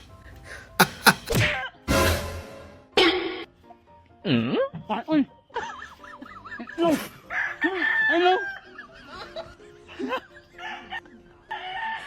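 Loud, excited hen cackling in repeated bursts after laying an egg, with other chickens nearby and a person speaking at points.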